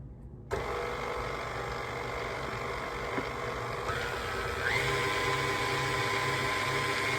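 An electric stand mixer kneading cinnamon roll dough after more flour has been added, starting abruptly and running as a steady, even motor whir at close range for several seconds with no talking.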